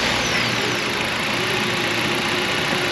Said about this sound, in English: Restarting the engine.